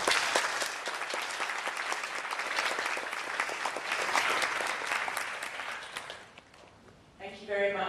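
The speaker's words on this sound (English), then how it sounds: "If you could all join me in a round of applause." Audience applause closing an evening talk on war-crimes tribunals, a dense steady wash of many hands clapping for about six seconds, then fading out as a voice begins speaking.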